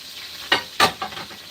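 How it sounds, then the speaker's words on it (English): Seasoning sizzles in a hot pan on a stove as it is stirred, two sharp bursts of frying crackle followed by softer spitting, close and clear with no voices. "right here, I'm just frying up some seasoning"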